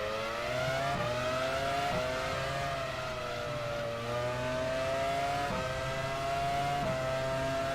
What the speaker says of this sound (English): This Honda sounds lovely.